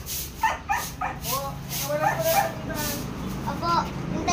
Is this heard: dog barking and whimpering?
yes